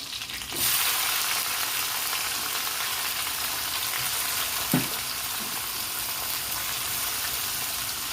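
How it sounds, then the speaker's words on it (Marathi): Cumin seeds frying in hot oil with green chilies, a steady dense crackling sizzle that starts abruptly and holds loud and close, with one brief clink partway through. "जिरा तांबडा टाकून घ्यायचा आपल्याला"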